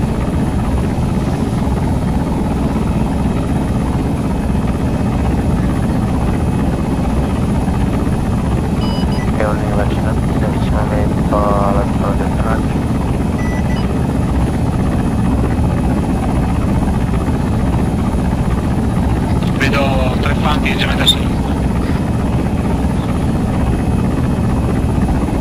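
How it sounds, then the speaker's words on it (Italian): Helicopter rotor and engine noise from an allied support helicopter in the military game Arma 3, a steady loud drone throughout with brief radio-style voices over it. "predisponete una landing zone per l'elicottero di supporto alleato"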